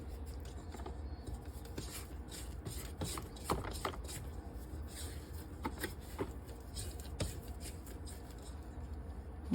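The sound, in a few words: scraping down a mixing bowl of dough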